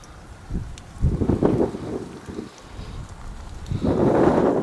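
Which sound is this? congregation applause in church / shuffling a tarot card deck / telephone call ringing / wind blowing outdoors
wind blowing outdoors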